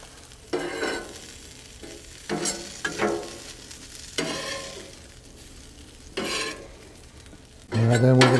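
Vegetables hitting a hot Blackstone griddle for Mexican street hot dogs, giving bursts of sizzling and frying with occasional stirring and utensil scrapes, then a louder steady sizzle near the end.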